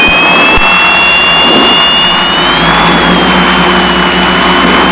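The twin piston engines of a Piper Seneca roar loudly and continuously at takeoff power, a steady droning hum heard from inside the cabin with a slight rising pitch.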